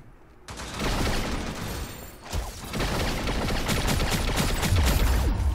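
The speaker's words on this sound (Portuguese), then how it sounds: "ela atira muito rápido" Rapid, continuous automatic fire from a character in the mobile shooter T3 Arena, loud and sustained for most of the clip after a brief start, with only light game sounds around it.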